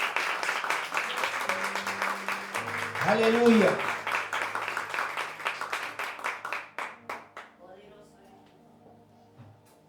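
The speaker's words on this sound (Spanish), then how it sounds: "¿Cuántos le dan un fuerte aplauso al Espíritu Santo?" A church congregation claps and cheers for several seconds, swelling around the middle, with a voice calling out and sustained organ or keyboard notes underneath before the clapping thins and fades.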